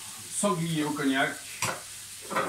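Pieces of wild boar sizzle in a hot pan for a cognac dish, a crackling fry under a nearby voice speaking over it.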